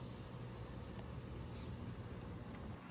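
Steady, dense bubbling hiss of air bubbles from an aquarium aerator in a balloon molly and guppy tank, constant and unbroken throughout, with a low rumbling churn underneath and no voices.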